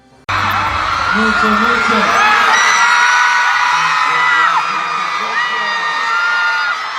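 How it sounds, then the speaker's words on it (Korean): BTS fans at a soundcheck in Madrid scream and cheer in a loud, sustained crowd roar with high shrieks and whoops, close and continuous after a brief quiet start. "멤버들이 모습을 드러내자 이들은 그야말로 광란에 가까운 환호를 내질렀습니다"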